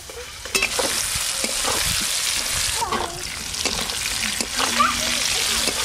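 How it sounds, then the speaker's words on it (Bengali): Chopped green tomatoes frying in a pan, with a loud continuous sizzle and repeated scraping clatter from stirring, plus faint voices in the background. "টমেটোগুলো খুব ভালো করে নেড়ে নিয়েছি, এবার ঢেলে নেব।"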